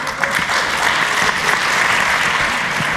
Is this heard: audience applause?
yes